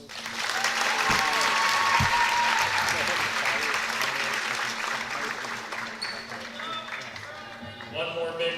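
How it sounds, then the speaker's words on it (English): Applause rings out in a high school gym for a senior girls' basketball player, a loud sustained round of clapping from the crowd that gradually fades, with squeaks and voices emerging toward the end. "One more big round of applause for these 5 seniors in 2024."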